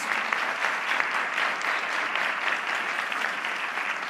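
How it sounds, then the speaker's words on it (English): An audience at a university Three Minute Thesis competition applauds the judges with steady, dense clapping that carries on evenly throughout, with no talk over it. "if we could have a round of applause for our judges, please"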